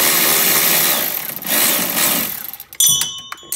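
A power tool spins a 13 millimeter bolt out of a lower ball joint on an Opel GT, whirring steadily up close before slowing and stopping, followed by a few brief metallic clinks.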